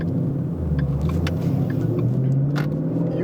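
A Ford Mustang with an upgraded 90 lb clutch spring downshifting, its engine rumbling steadily and rising briefly in pitch, heard from inside the car with no talk.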